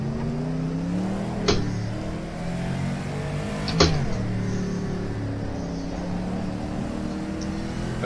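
A Lola race car engine in rFactor 2 roars under steady throttle, its pitch climbing and dipping, with two sharp clunks from gear changes or bumps along the way, loud and close throughout.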